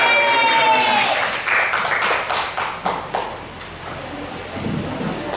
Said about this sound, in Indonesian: Kita beri lagi tepuk tangan kelompok Agape.